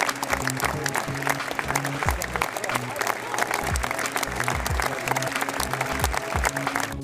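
A large crowd at the Cannes festival gives Johnny Depp a standing ovation. Steady, dense applause runs throughout, with music or voices layered beneath it.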